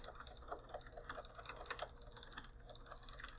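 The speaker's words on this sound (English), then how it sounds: "You guys hear the space bar?" A Logitech G910 keyboard's space bar is pressed repeatedly in a steady run of close, clacky keystrokes, with scattered louder thumps and no talking.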